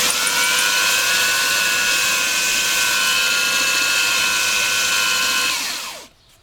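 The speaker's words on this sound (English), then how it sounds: "it's just the weight of the belt sander" A Makita 9404 belt sander runs at speed 1 with only its own weight on the work, giving a loud, steady motor whine with a constant belt hum that winds down and stops near the end.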